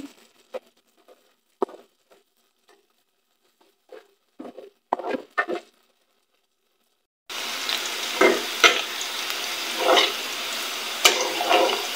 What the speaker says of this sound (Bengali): পেঁয়াজটা দিয়ে দিলাম। তেলটা হালকা গরম হওয়ার পর নাড়াচাড়া করতে থাকি।